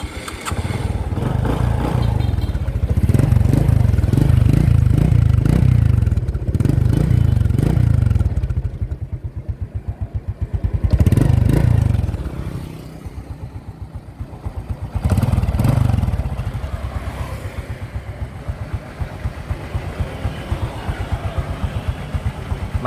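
A Honda Future Neo GT motorcycle with an original, unmodified engine runs close to the mic, with strong low rumble throughout and several distinct revs swelling and falling back to a steady idle.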